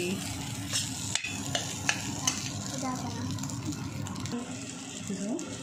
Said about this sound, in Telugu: ఇప్పుడు డిష్ అవుట్ చేసేసుకుంటున్నాను